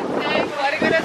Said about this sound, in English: The wind is winding